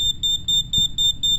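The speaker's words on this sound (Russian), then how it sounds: "Датчик дыма?" A smoke detector beeps repeatedly in the VR game Paranormal Activity, giving steady high-pitched chirps at an even rhythm over a low rumbling background, with one brief thump partway through.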